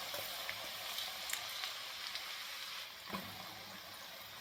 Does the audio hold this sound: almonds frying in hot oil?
yes